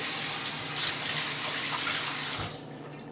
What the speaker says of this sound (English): So now I have to quickly wash my hands a little bit.